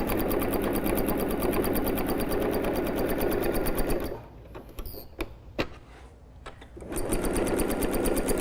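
A sewing machine stitching along the edge of a tufted Christmas tree purse, a loud steady rapid whir that stops for a pause with a few clicks and handling knocks, then starts up again.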